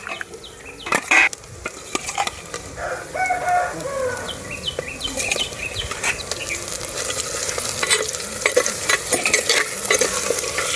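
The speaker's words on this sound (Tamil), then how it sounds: "இப்போ அடுத்து சிக்கன் போட போகிறோம்." Country chicken pieces frying in ground masala in a pan, a continuous close sizzle with repeated stirring scrapes and clanks, while a rooster crows in the background and no one speaks.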